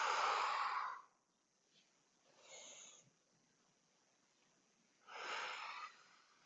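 Breath is pushed out in long, close, breathy exhales during a breathing exercise, with two strong exhales at the start and end and a softer one between, separated by quiet pauses.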